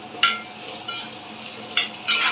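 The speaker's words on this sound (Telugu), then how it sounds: "ఉల్లిపాయలు అయితే బాగా ఫ్రై అయ్యాయి. ఇందులో గుడ్లు కూడా వేసుకొని" Onions frying in a pan with eggs added for a spicy Guntur-style egg dish, a steady soft sizzle broken by a few sharp scraping stirs near the start and end, with no talking.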